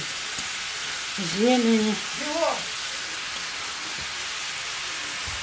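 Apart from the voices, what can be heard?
squid with carrot, dill and onion frying in butter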